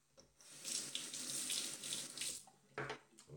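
A tap runs steadily into a sink for shaving, a close hissing gush that stops briefly, then returns in short splashy bursts; no voices.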